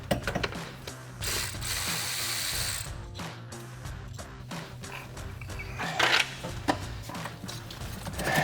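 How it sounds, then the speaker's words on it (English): A ratchet with a short 8mm socket removes bolts on the 5.0L Coyote engine of a Ford F-150, making a run of rapid clicking pawl strokes, close and crisp, with brief pauses between bursts. "I gotta use a short 8mm socket to fit in there."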